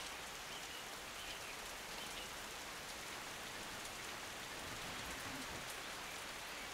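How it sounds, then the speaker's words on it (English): Steady rain falls throughout in the video game Norland, a dense even hiss of drops with no voices. "That rain is delightful."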